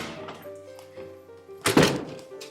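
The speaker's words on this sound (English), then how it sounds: "The door." A door is opened or closed indoors, giving a sharp, close thunk about two-thirds of the way through, preceded by softer tonal household sounds and followed by a fading tail.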